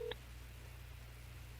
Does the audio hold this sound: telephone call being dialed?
yes